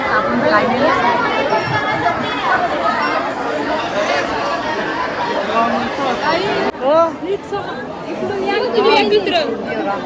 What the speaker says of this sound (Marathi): अशी गर्दी आहे